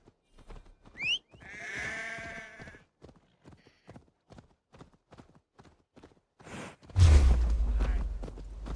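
A sheep gives a loud, wavering bleat near the start in the video game Assassin's Creed Valhalla, followed by steady clip-clop hoofbeats, then a sudden loud rumbling burst.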